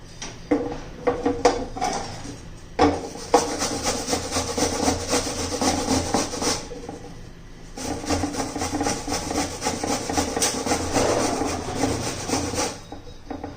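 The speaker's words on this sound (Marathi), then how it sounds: "आता मी कैरी कापून किसून घेते" Raw green mango scraped by hand against a grater in a steady back-and-forth rubbing rhythm, close and fairly loud, with a short pause midway before the grating resumes.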